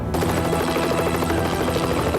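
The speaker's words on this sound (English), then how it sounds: "I heard a helicopter," A helicopter's rotor thumps in a rapid, steady pulse with a loud mechanical whine, close and continuous throughout.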